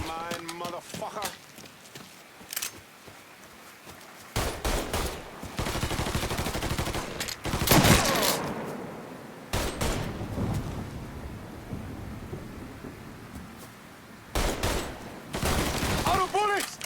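Bursts of gunfire in the video game Mafia III come in loud clustered volleys separated by quieter gaps, close and sharp, with game voices speaking between the shots.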